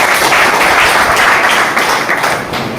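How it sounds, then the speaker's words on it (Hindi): A loud, dense round of applause from a training-session audience, steady clapping throughout that eases slightly toward the end. "एक बार जोरदार ताली हुई।"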